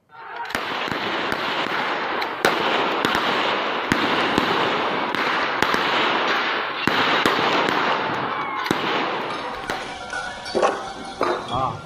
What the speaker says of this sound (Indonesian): polisi sempat memberi tembakan ke udara untuk menghentikan aksi penjarahan